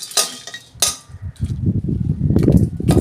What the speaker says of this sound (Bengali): কড়া বসে দিয়েছি তেজপাতা এইগুলো সব মশলাগুলো দিয়ে দিচ্ছি শুকনো খোলায় দিয়ে একটু নেড়ে নেব